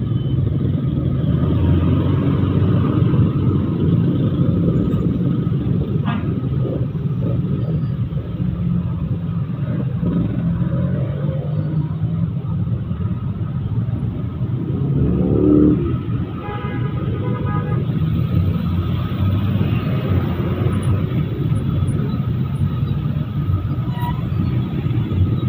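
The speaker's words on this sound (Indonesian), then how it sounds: "truk angkutan ekspedisi, truk pasir itu banyak banget ini melintas di kawasan Canguk Kota Magelang" Steady road traffic in Canguk, Magelang, with expedition freight trucks and sand trucks passing, a continuous loud rumble of engines and tyres that swells briefly as a heavy vehicle goes by.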